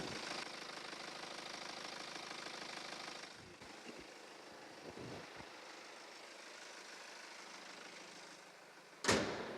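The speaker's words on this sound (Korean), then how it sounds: "바로 그 다음에 엔진 소리 한번 들려드릴게요." A 2014 BMW X3 xDrive 20d diesel engine with 64,000 km idles with a steady, knocking rumble, then a short clunk near the end, like a door shutting.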